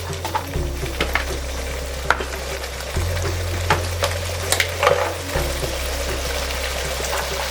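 Tamarind water bubbles and sizzles steadily in a pan while cooking a garlic and curry leaf kuzhambu, with occasional stirring clinks and a low hum underneath; no voices.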